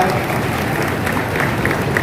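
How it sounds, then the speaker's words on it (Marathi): An audience at a public gathering applauds to welcome a police superintendent arriving at the stage, a loud, dense, continuous clapping from a crowd that lasts the whole moment. "आपण जोरदार टाळ्या वाजून त्यांचं स्वागत करूया"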